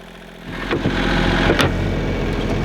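Boat engine running underway, heard from a sleeping cabin directly beneath it behind soundproofing, a steady low mechanical hum and drone that swells slightly after the first half second and holds loud and continuous.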